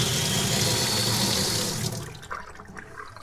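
Water gushes down a sink drain just cleared with a Kobalt KDA100 drain auger, a loud steady rush for nearly two seconds that then drops to quieter trickling and gurgling.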